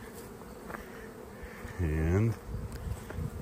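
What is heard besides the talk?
bees buzzing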